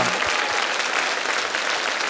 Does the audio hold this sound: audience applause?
yes